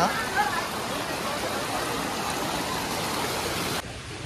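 Water pours down a tall waterfall near Devgad and rushes along its stream, a steady broadband roar that stays loud and even, then drops abruptly in level near the end.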